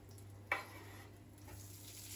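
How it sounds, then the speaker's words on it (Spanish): Chopped morcilla fries gently in oil in a frying pan, giving a faint, steady sizzle, with one brief scrape or stir early on. "que se vaya rehogando la morcilla"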